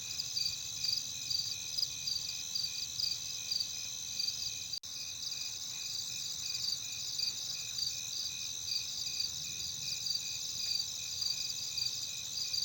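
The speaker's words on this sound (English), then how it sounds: "we hear all these crickets, cicadas, and whatever fucking bugs that Egypt is so well known for" Night insect chorus of crickets and cicadas in the 1996 Egyptian adventure game Mummy: Tomb of the Pharaoh, a steady, even, high pulsing drone with a faint low background and one brief dropout partway through.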